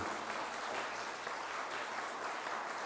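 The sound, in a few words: church congregation applauding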